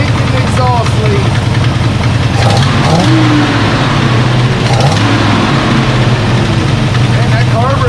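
A 1966 Plymouth Fury III engine runs steadily with an exhaust leak, a loud continuous low rumble with slight rhythmic pulsing and faint knocking throughout, no talk.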